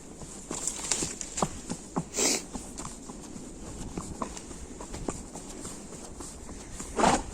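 A horse walks on a ride outdoors, its hooves clip-clopping in a steady, fairly quiet rhythm, with a couple of louder snorts or breaths along the way.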